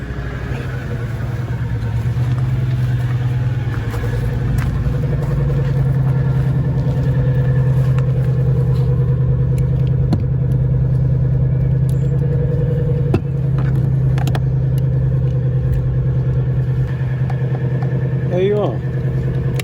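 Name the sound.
Jaguar XK 4.2 engine started with jump-starter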